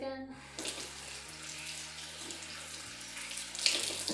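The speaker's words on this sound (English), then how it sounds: "I am going to wash my hands again" Tap water runs steadily into a sink as hands are washed, a soft, close, continuous splashing with small shifts as the hands move under the stream.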